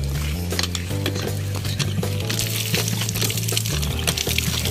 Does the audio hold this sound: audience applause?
no